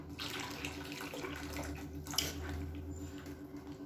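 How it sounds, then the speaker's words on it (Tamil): More water poured into a pot of idli sambar, a continuous soft liquid rush at close range that runs through the whole stretch, with a faint clink midway and no talking. "மஞ்சள்தூள் கொஞ்சமாக சேர்த்துட்டு தண்ணி இன்னும் கொஞ்சம் சேர்த்துக்கலாம்"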